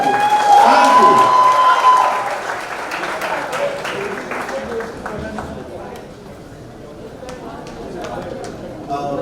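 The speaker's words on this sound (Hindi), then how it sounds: "एक बार हमारे सारे मीडिया फ्रेंड्स के लिए जोरदार तालियां होनी चाहिए।" An audience at a Miss India runner-up event and auto rally applauds loudly at first, then the clapping tapers to a softer, scattered patter with crowd chatter mixed in.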